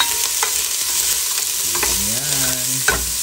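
Sliced onion hitting a hot pan, where it sizzles loudly and steadily, with stirring scrapes and a short sliding tonal whine partway through, all close and with no speech.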